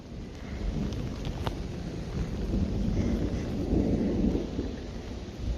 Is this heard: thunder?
yes